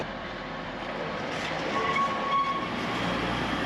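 A Class 170 Turbostar diesel train rumbles steadily close by at a bay platform, its engine drone rising slightly with a faint tonal whine partway through.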